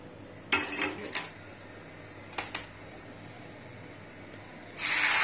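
Dishes and cutlery clatter as fried food is taken out onto a plate: a few quick clinks in two short clusters, followed by a rising hiss at the end.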